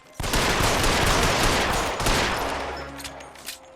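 Rapid sustained gunfire in the video game L.A. Noire, a loud dense volley of overlapping shots close by, continuing for a few seconds before tapering off.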